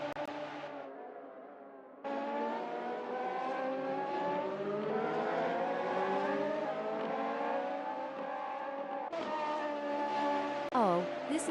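Race cars in a Radical sim racing series, high-revving engines whining loudly with rising and falling pitch through gear changes, a brief cut in the sound near the start and sharp upshifts near the end, a commentator talking underneath.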